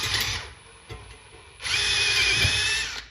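A power drill whirs in short bursts, then runs steadily for over a second, loud and close, with a high-pitched whine, drilling a speaker grill for a Paperboy arcade cabinet.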